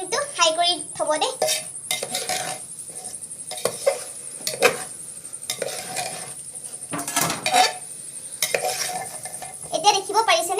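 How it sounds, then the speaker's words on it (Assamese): A metal spoon scrapes and clanks against a pot while chicken for pulao is stirred and fried over high flame, in irregular close knocks and scrapes over a faint sizzle, with brief bits of voice. "এতিয়া মই এইখিনি ভালদৰে মিহলাই ল'ম ভালদৰে ভাজিব"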